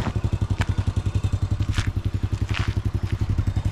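A lightweight motorcycle with rough-road tires rides a rough, soft dirt track along the Norzagaray River in Bulacan, its engine thumping in a fast, steady chug close by, with faint rattles over the beat and no talking.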